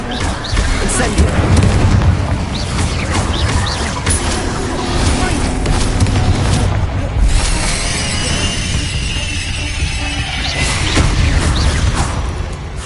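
Incendio fire spell in Hogwarts Legacy, dense booming bursts and crackling blasts of game combat playing continuously and loud, with speech mixed in.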